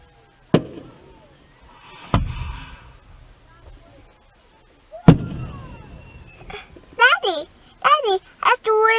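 Canada Day fireworks in Nipawin, with three sharp booming explosions spaced a few seconds apart and short reverberating tails, followed by a voice talking nearby.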